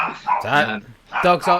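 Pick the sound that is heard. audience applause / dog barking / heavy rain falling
dog barking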